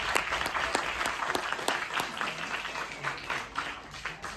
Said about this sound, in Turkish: Onun için de bir alkışlayalım.